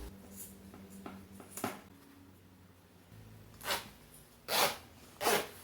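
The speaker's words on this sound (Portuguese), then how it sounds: "Então agora nós vamos colocar o cursor no zíper, alinhe bem direitinho." A zipper slider is fitted onto the zipper of a sewn fabric oral-hygiene kit pouch, giving a few short, close, scratchy zipping rasps near the end after quieter handling rustles.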